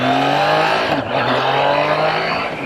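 A Triumph Trident 660 with a 660cc inline-triple engine pulls hard in a sustained, rising engine note, loud and close, with a brief dip as the gear changes partway through and the pitch climbing again after.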